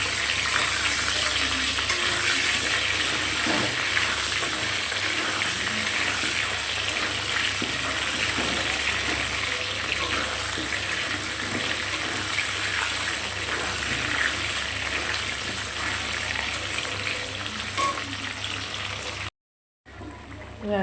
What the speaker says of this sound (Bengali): তো আলুটা আগে ভালো করে ভেজে নিই।